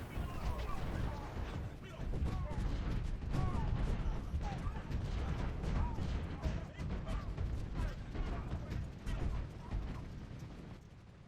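Artillery volleys in Ultimate General: Civil War, at the Second Battle of Bull Run, thump and crack in a dense, rolling barrage of repeated cannon shots throughout.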